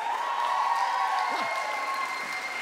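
Comedy show crowd clapping in response to a vote, an even sustained applause at moderate level with a faint shout or cheer rising briefly in the middle, over a steady background hum.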